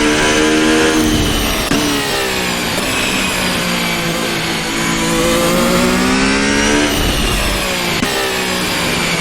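A Ferrari F1-75 Formula 1 engine in the Assetto Corsa racing game revs loudly and continuously, its pitch rising and falling through several surges over about nine seconds.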